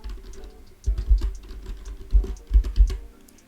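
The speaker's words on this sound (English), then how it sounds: "Mine is to just go ahead and type alcohol for a category." Close, fairly loud typing on a computer keyboard as a category name is entered into an inventory management system, short bursts of keystrokes after a brief pause.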